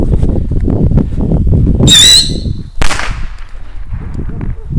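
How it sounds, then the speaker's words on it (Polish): A whistling Air Traveler firework rocket launches with a loud, rising shriek lasting about half a second, then a sharp crack, amid steady background noise. "Zapomniałem jeszcze o rakietce piszczącej Air Traveler, także nadrabiamy zaległości."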